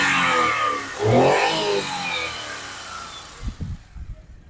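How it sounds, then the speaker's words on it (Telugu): A Maruti Alto 800 LXi hatchback with about 6000 km on it, its petrol engine running close by with a steady mid-pitched hum that swells into a brief rev, then settles into a lower, uneven idle toward the end. "మీరు ఇక్కడ ఇంజన్ సౌండ్ వినొచ్చు"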